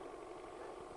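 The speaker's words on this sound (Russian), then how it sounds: "Трактор едет." A tractor drives across a frozen river in a foggy, frosty village, its engine a steady low rumbling drone heard at a moderate distance, unbroken and with no talking.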